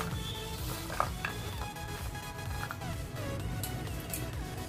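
Red chana sprouts salad is tossed and mixed in a bowl, producing a continuous close rustle and wet shuffling with light clinks of a utensil against the bowl.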